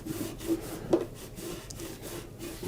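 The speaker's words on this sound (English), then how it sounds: "I'm just going to work it into the grain, rub it around, work it into here" Finishing oil being rubbed by hand into the grain of a wooden side table, a soft continuous scuffing and rubbing with small uneven swells, close and fairly quiet.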